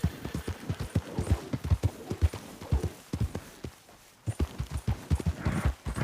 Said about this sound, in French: Je suis à cheval